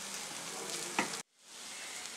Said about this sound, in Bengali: এখন আঁচটাকে মিডিয়াম ফ্লেমে দিয়ে এটাকে একটু ভালো করে এইভাবে কড়াইতে নাড়তে হবে।